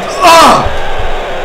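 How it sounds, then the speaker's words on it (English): A donation alert on a live stream sets off a short, loud screamed sound effect that swells and fades within about half a second, followed by faint low thumps. "it triggers a scream when it happens."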